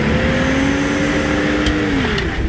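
A 1994 Toyota 4Runner 4x4's engine revs loud and steady in neutral, holding a sustained high drone before the pitch drops away near the end, with a couple of faint clicks.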